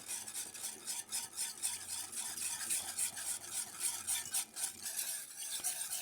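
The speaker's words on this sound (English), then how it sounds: "I'm going to switch to a whisk." A whisk scrapes and swishes steadily as stock is stirred into a mutton haricot sauce in a pot, a continuous close metallic churning with a faint simmering hiss beneath it and no talking.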